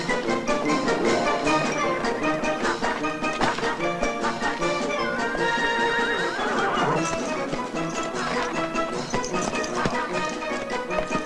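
Horses neigh and whinny over busy clip-clopping hooves in a 1970 spaghetti western scene, with a drawn-out whinny standing out midway against a loud, dense mix of riders on the move and shouted voices.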